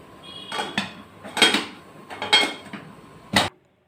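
A metal lid handled over a pot of steaming red rice kozhukattai, several sharp clanks and clinks spaced unevenly, ending with a final firm clatter as it settles.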